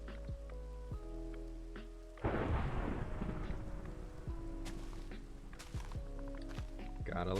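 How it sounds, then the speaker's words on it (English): Video game rain pours steadily, with a sudden rumble of thunder swelling partway through, while game music and a faint background voice continue underneath. "Gotta love the rain."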